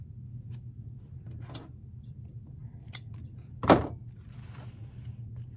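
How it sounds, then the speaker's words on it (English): Scissors trimming a length of 1.5-inch ribbon: a few faint snips, then one sharper, louder cut near the end over a low background hum. "Just trim this one down."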